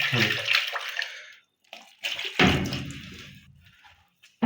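Water poured from a jug into a cooking pot while making aloe vera halwa, a splashing gush in two bursts separated by a short pause, close and fairly loud, with no voice over it.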